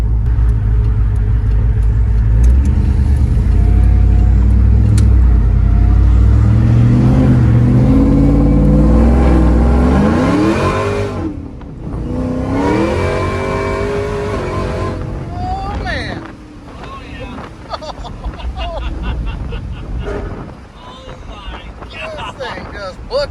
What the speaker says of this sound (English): It was trying to haze the tires.